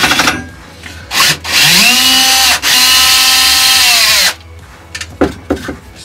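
A power tool drills out the screws holding the motor to the frame of a Razor E300 electric scooter, with two loud whirring bursts that spin up and wind down, plus short clicks and handling noises between them.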